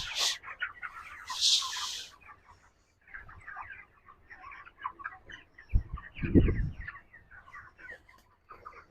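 A flock of broiler chickens in a poultry farm shed clucks and chirps in a busy, overlapping chatter, with a few louder squawks near the start and a low thump midway, moderately close.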